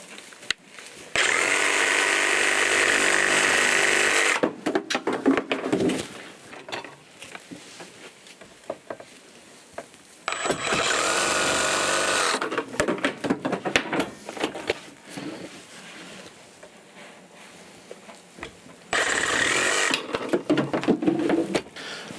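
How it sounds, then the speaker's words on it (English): A Makita power tool cuts through PVC piping in three loud, sustained bursts separated by quieter rattling and handling sounds, close up with no talking. "Now I just have some piping here, PVC piping. Got this other Makita tool I had got. We're just going to cut these pieces here."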